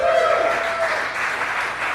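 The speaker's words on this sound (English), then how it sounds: "Clap it up for me." Applause from a comedy show audience at Legit Dogs, a steady wash of clapping filling the room for about two seconds without pause, fairly loud and close.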